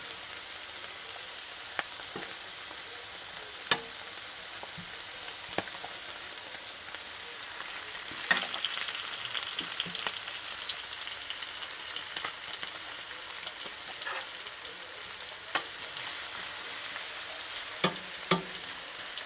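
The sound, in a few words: breakfast frying in a warped pan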